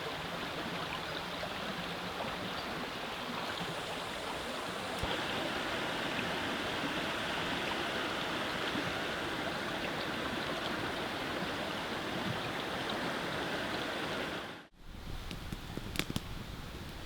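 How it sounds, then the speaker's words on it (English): A river flows beside a winter tarp camp, a steady broadband rushing of water with no let-up, with a brief dip and a few small knocks near the end. "enjoy the sounds of the river and the crackling campfire"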